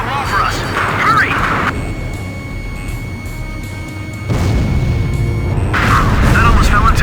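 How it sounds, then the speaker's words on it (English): A wall is broken down in the Ace Combat 5 video game, heard as heavy rumbling crashes and booms that swell mid-clip, over constant game noise with voices speaking on top. "We're in here! Break down this wall!"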